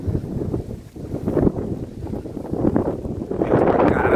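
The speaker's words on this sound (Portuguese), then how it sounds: "Vento pra caramba," Strong wind gusting across a beach campsite where meat is grilling beside a Parati converted camper, a loud continuous roar and buffeting against the microphone that swells toward the end.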